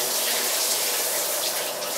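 Water runs from a shower tap in a loud, steady, close rush of spray with no pauses, alone without any voices.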